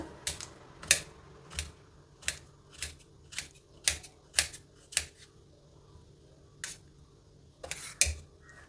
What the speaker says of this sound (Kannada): ಸಿಪ್ಪೆ ತೆಗೆದುಬಿಟ್ಟು ಹಚ್ಕೊಳ್ತಾ ಇದ್ದೀನಿ